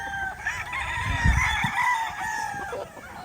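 A yellow-legged hatch gamefowl rooster gives one full, close crow that rises and holds steady before trailing off, loud against a faint outdoor hum.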